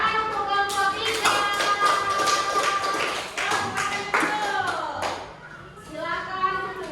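A classroom group claps for group 3, with a burst of brisk hand clapping mixed with children's chatter and an adult voice speaking over it.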